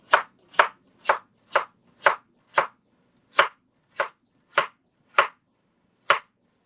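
Eleven sharp knife chops through carrots, celery and onion on a cutting board, evenly spaced, close and crisp with a short pause midway, no talking.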